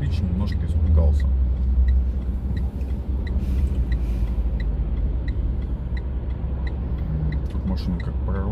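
Car traffic rumbling along a street in the mountain resort town of Dagomys, a steady low engine drone running throughout, with a vehicle passing close and a brief air-brake hiss mixed in.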